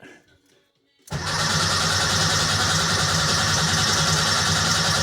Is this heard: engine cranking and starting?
yes